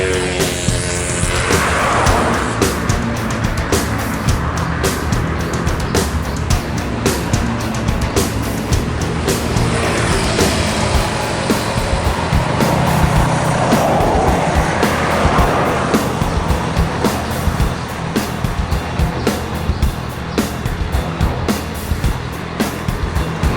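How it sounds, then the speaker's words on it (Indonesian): An ANS intercity bus nicknamed Kipas Biru arrives from Jakarta, its engine a loud, steady roar with rumbling road noise that holds constant throughout, and nobody speaks. "Bus yang keempat masuk dari Jakarta, ANS dengan julukan Kipas Biru"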